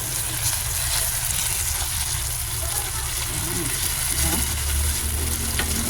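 Tomato paste frying in a pan for buttered shrimp, a steady close sizzle with stirring scrapes throughout.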